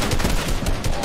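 Automatic weapon spraying in Fortnite, a dense, rapid burst of loud shots packed tightly together over about a second, with no voices.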